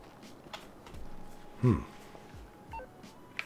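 Phone number dialed in the video game GTA: a string of separate DTMF key beeps spread unevenly across a few seconds, with one louder tone near the middle and faint background noise beneath.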